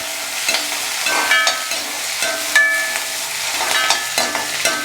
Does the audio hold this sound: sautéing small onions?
yes